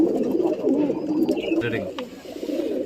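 Cooing from home-reared young pigeons fills a short stretch, low throaty calls rolling on close up, with a few brief higher chirps partway through.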